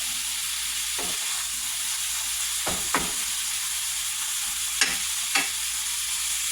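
Ground beef casserole sizzling and frying in a pan, a steady close hiss broken by several brief scraping stirs at irregular intervals, with no talking.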